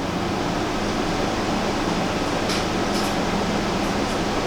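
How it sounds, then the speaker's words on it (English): Steady, even air conditioner hum filling the room, a broad constant whoosh with a low droning undertone that holds unchanged throughout, close and moderately loud with no talking. "Sounds of the AC humming just lets you go even deeper, deeper relaxed"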